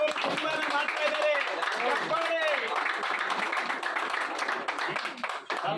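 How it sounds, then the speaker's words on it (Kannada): Audience at a Lok Janshakti Party and Dalit Sena political gathering clapping hands, a steady crowd applause running throughout with voices and cheering mixed in. "ಕೈ ಚಪ್ಪಾಳೆ ಬರಲಿ."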